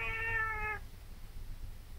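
A single cat meow, clear and close, lasting under a second at the start before fading into quiet room noise.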